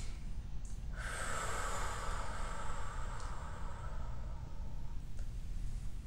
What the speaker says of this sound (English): take a couple of nice, deep, relaxing breaths